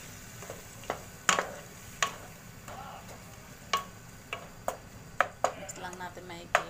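Chicken curry stirred in a pan with a utensil, giving a series of sharp scraping clinks at an uneven rhythm over a low background sizzle, close and fairly loud.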